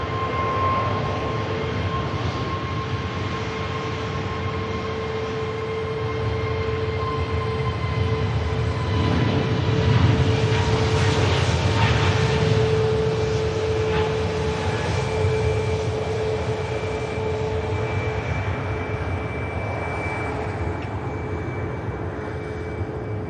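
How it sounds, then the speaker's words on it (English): British Airways airliner in Better World livery making a rolling-start takeoff at Manchester Airport: a sustained jet engine roar with steady whining tones, swelling mid-way, heard from a distance with no talk. "So you're going to get a rolling start for the BA"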